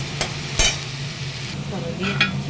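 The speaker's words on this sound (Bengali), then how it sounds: "এই তেলের মধ্যে দিয়ে দিচ্ছি ফোড়ন আর এবারে যে শাঁসটা বার করেছিলাম পটলের ভেতরে করে সেটা দিয়ে দিচ্ছি আর আলু দিচ্ছি চলো এবারে একটু নেড়ে" Pointed gourd pulp and potatoes fry in oil while being stirred, a low steady sizzle broken by a few sharp scraping clacks of the spoon against the pan.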